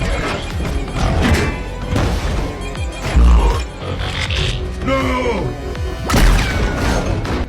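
Loud, heavy crashing booms and thuds of an explosion burst out amid dense action sound effects in a Transformers robot fight, with a big impact near the middle and another toward the end.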